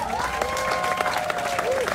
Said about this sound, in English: could please give them a round of applause again